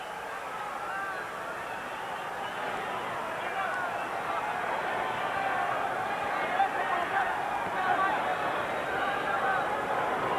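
A boxing arena crowd protests the referee's stoppage of a fight with a steady, distant wash of babble and shouting that swells slightly toward the end, with no single voice standing out.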